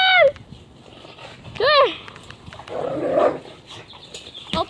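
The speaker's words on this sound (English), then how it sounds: "Oh, the dog's fighting." Dogs scuffling and fighting: sharp yelps and high whining cries, some growling and snarling bursts, close and loud, with people talking in between.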